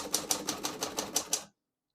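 A 1940 Corona Standard portable typewriter being typed on, eight crisp evenly spaced key strikes in quick succession, close and clear, then abrupt silence.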